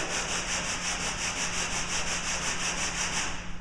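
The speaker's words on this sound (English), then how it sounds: "hold the sandpaper down, and you're going to move it back and forth" Steady rhythmic rubbing of sandpaper on wood, even back-and-forth strokes repeating quickly and continuously, close up with no talking.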